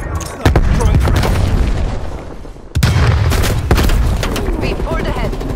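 A frag grenade goes off in Call of Duty: Black Ops Cold War amid a loud, continuous battle din, with heavy booming blasts and gunfire, including a sharp deep burst near the middle, while voices talk over it.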